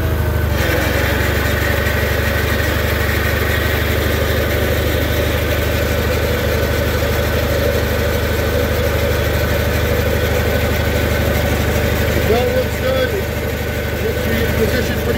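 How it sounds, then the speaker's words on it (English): A snow blower on a Case Ingersoll tractor runs steadily at idle with a dense, continuous mechanical drone, its auger bearings adding a slightly loud, gritty whine throughout, close and constant with no pauses. "These auger bearings are a little loud"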